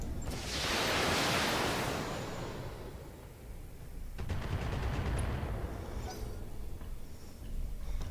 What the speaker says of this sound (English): And then we're going to launch some missiles at the fire starter.